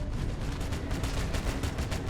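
Continuous muffled gunfire in a video game, coming from behind the player, forms a dense, rumbling barrage of overlapping shots at a steady moderate level.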